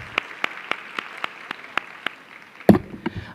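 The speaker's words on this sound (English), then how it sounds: "Another round of applause." Panel audience at a 2010 national town hall on education clapping for the panelists, a sparse spread of about a dozen distinct claps for roughly three seconds, then a louder burst of handling noise near the end.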